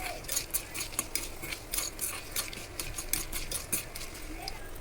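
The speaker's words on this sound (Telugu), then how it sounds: "ఇప్పుడు మీ ముందే ఇది ఫ్రై అయితే చేసుకుంటున్నాను" Green chillies and ridge gourd frying in a pan for a chutney, with steady sizzling and repeated scraping, clinking strokes of a stirring utensil against the metal, close and moderately loud with no talking.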